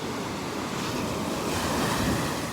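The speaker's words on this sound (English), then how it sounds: "Those are some giant waves." Large surf waves on the Gulf of Mexico under a red flag warning, a loud continuous roar of breaking water with heavy wind buffeting the microphone throughout.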